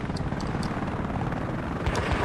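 A helicopter in the video game Battlefield Play4Free gives a steady rotor thump and engine drone that holds throughout at moderate loudness, with small bursts of game noise and no speech.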